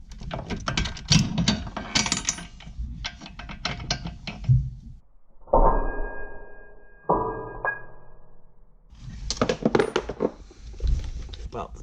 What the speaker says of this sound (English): Let's grab a ratchet.